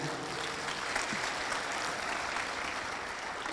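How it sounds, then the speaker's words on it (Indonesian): A crowd claps steadily together at a school farewell ceremony, a dense wash of applause at moderate volume holding for a few seconds. "Tepuk tangan."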